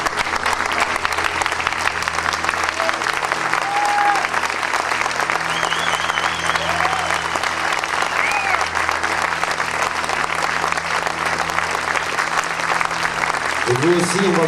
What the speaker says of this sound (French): je vous demanderai de vous lever et de nous applaudir très fort